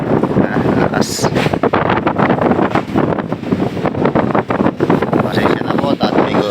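Strong typhoon wind buffeting the microphone on a roof deck, gusty roaring and rumbling throughout with people talking under it.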